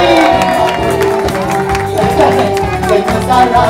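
Party guests at a birthday celebration with a Neapolitan Pulcinella performer clap and cheer in a dense, lively crowd wash that stays loud and steady throughout, with voices mixed into the noise.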